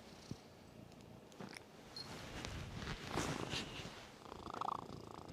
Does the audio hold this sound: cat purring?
yes